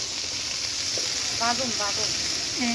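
A potato and flat-bean curry sizzles as it is sautéed in a wok on a makeshift rooftop stove. There is a steady frying hiss throughout, with a few brief tonal voice-like sounds over it.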